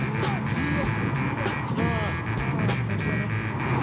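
A vintage Cobra roadster cruises gently along roads in Miami, its engine a low steady drone beneath someone talking.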